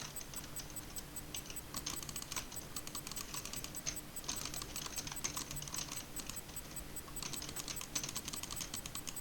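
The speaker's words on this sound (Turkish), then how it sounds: "size klavyeyle mouse sıkıntıları çok geliyorsa kusuruma bakmayın" Rapid computer keyboard typing and mouse clicking during a Stick Fight game session, a steady close stream of light plastic clicks and taps with brief pauses, no talking.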